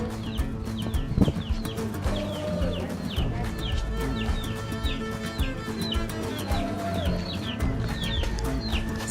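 Chickens cluck repeatedly in a Nepali village along the Annapurna Circuit, their short calls scattered across a busy ambient background of village life, moderately close and steady throughout.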